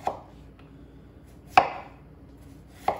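A chef knife slices thinly through raw potatoes for a gratin, giving three crisp chops on a cutting board at uneven intervals, close and clear with quiet between them.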